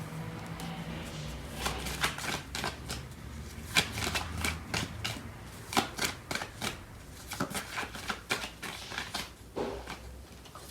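Tarot cards are shuffled and riffled by hand in repeated quick bursts of crisp flapping and patter over about ten seconds, close and fairly loud, with no talking.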